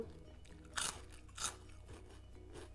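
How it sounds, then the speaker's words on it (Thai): Crunchy pork cracklings bitten close up, two sharp loud crunches followed by softer chewing crackles, with no talk. "เขียบหมูกับกรอบกรอบ"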